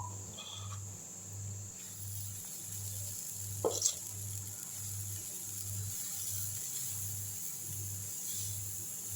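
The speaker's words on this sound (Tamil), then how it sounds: "இட்லி வேகிறதுக்குள்ளே நம்ம ஒரு தோசை ஊற்றி பார்த்துடலாம்" Dosa batter made from Kerala matta red rice spread on a hot pan gives a steady, even sizzling hiss throughout, over a low pulsing hum, with one brief clatter partway through.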